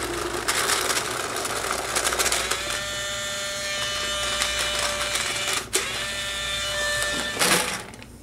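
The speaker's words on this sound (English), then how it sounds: "might as well do a reball test with it too, with the rotor" A Rotor paintball loader runs a reball test through a Spine speedfeed, giving a steady mechanical whirring and rattling of balls feeding through, with a brief dip and a short burst near the end.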